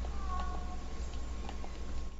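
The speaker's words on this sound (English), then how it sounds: "Meow, meowing. Not purring, meowing." A cat meows a few times, soft and fairly near, over a steady low hum, with no talking.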